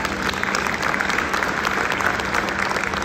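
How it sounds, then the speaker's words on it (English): Audience applause for a band at a community spring concert held at a YMCA, steady dense clapping filling the whole stretch at close range with no talk over it. "A round of applause for them."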